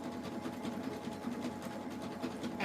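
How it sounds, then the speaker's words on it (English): A Pfaff Quilt Ambition 635 sewing machine hums evenly and continuously at a moderate level, stitching jelly roll fabric strips for a rug with 40-weight polyester thread, with no talking over it. "The machine is the Pfaff Quilt Ambition"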